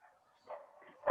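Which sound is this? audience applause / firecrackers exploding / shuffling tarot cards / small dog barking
small dog barking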